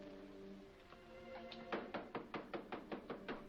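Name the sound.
knocking on a temple door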